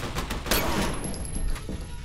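A burst of rapid gunfire in the video game F.E.A.R. Perseus Mandate crackles, a few sharp shots in quick succession followed by lingering noisy rumble, with no talking.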